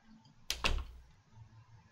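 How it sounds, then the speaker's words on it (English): A door sample triggered from a pad in Reason's Kong Drum Designer: one sharp double thunk, a latch click and then a heavier slam, with a short low decay and nothing else around it. "now I have this door field sample"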